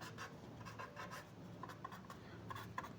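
Math worked out by hand on paper, with a faint, close scratch of pen strokes coming in short bursts and no talking.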